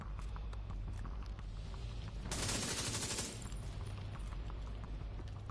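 Gunfire from incendiary rounds in The Division 2: dense, steady bursts of rapid shots that swell into a loud, harsh blast around the middle, then drop back to continuous firing.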